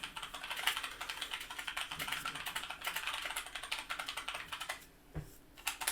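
Rapid clicking of typing on a computer keyboard fills the clip, steady and close, with a brief pause near the end before the keystrokes resume.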